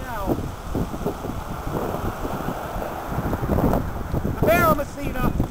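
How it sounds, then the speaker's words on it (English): A strong gust during Hurricane Sandy in New York roars steadily across the microphone, rising in the middle, with a voice talking briefly near the end. "And here comes the gust now."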